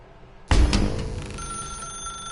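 In The Stanley Parable video game, a telephone bursts into a loud ring with a sharp, bright onset, then the ringing tone lingers and fades slightly as it rings on, alone without speech.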